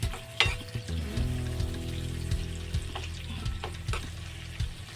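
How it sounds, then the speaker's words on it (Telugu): Dried prawns frying in oil, crackling and sizzling steadily up close, with stirring scrapes and a faint tonal hum running underneath, no voices present. "కొంచెం ఎర్రగా వేగి నూనె చిట్టపట్టమంటున్నట్టు కదండి, అప్పుడు తీసుకోండి"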